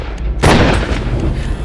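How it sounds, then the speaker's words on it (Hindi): Gunfire in a tense confrontation: a sharp, loud blast near the middle of the moment, then a lingering rumbling tail, with the two shots running together rather than standing apart. "2 गोलियां चली।"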